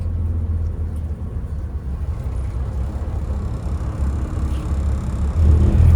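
A 1969 fire truck engine running while the truck is driven, giving a loud, steady low rumble from inside the cab that swells slightly toward the end, with no talk over it.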